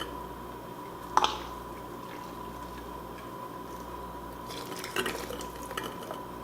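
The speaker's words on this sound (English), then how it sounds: "So we're just filling up our jars." Pork and sweet potato stew is ladled into quart canning jars, with faint liquid drips and pours punctuated by a couple of light clinks of a ladle against glass over a quiet kitchen background.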